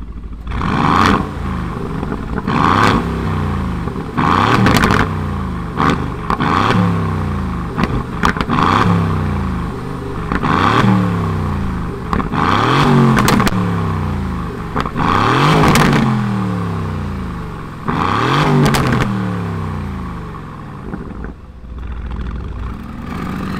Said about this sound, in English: let's fire up this Vantage and see if it sounds like a race car